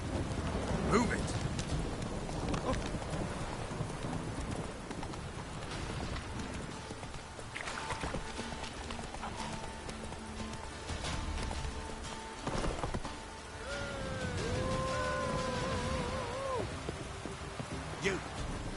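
Roach the horse gallops in The Witcher 3, with rhythmic hoof clip-clops running steadily through rain and distant rumbling, and voices speaking briefly over the hoofbeats.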